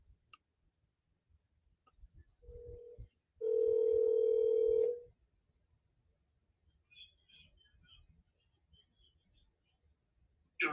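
Phone call placed through Siri, a short tone followed by a longer steady ringback tone in quiet surroundings, then faint faint chirps and a click at the end.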